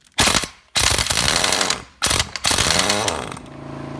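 Stubby Earthquake XT air impact wrench running off a small air source to remove lug nuts, three loud bursts of rapid hammering rattle, the middle one longest, separated by short silences.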